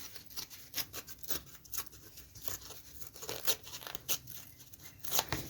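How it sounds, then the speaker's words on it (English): A white tack strip being torn off fabric in paper crafting, heard as a run of close, crisp ripping and crackling bursts at an uneven rhythm, quiet and with no voices. "I need to tear this white strip off."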